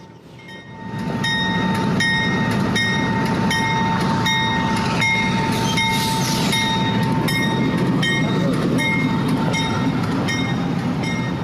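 A train moves out of Rose Yard in Altoona, rumbling loudly and continuously close by, with a sustained tonal hum and steady rolling noise after a quieter start.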